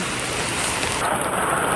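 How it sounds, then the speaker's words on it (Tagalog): Heavy rain pours steadily at a night market in Taiwan, a dense, loud hiss of drops on surfaces that continues for the whole clip, with no voices. "Ang lakas na ng ulan dito talaga."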